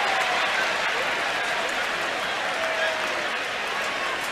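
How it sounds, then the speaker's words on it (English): A baseball stadium crowd cheers a seagull circling the field, a steady, loud wash of applause and cheering that holds for several seconds. "And the fans now are cheering on the seagull."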